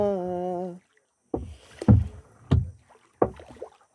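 Kayak paddles on a lake pulling through the water in separate splashing strokes, about four sharp dips spaced under a second apart, after a brief burst of singing at the start.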